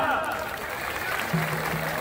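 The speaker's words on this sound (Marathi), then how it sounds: "टाळ्या करा" Applause from a crowd at a wrestling match, mixed with a loud nearby voice talking over the clapping.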